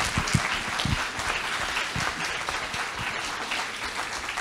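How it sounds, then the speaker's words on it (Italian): Audience in a meeting hall applauding a colleague joining remotely, a steady mass of clapping with a few nearer, sharper claps standing out, sustained throughout. "Grazie per l'applauso."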